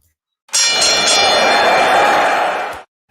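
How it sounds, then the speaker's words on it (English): A single bell struck once to open a segment on a wrestling news show, ringing loud and close with a bright metallic tone that sustains for about two seconds before cutting off. "Al, I'm going to ring the bell."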